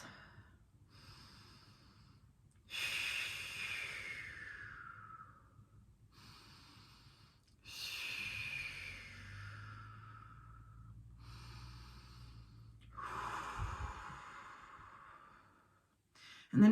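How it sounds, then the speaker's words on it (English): Three slow, deep breaths, each a long airy inhale and exhale, close and soft, spaced evenly in a quiet room with faint low hum between them. "just take 3 deep breaths"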